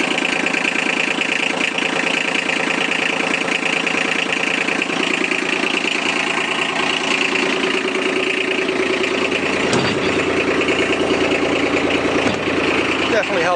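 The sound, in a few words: diesel utility vehicle engine idling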